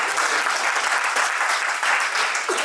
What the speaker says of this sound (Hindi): इनके लिए एक ताली हो जाए